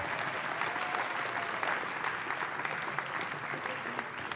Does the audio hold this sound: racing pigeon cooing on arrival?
no